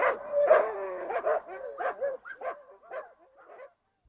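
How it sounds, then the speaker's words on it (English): Dogs bark and yip in a quick, uneven series of sharp calls that trail off into softer whimpers, close and loud with nothing else behind them. "the dogs bark at him"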